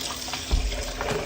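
Tap water runs steadily into a bowl while oxtails are rinsed, a short close splashing stream with slight surges.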